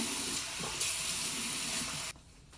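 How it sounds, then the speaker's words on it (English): Water runs steadily from a tap with a bright, splashy hiss while hair is wetted, then cuts off abruptly, leaving near quiet. "I was gonna sort of wet my hair. Let's do that."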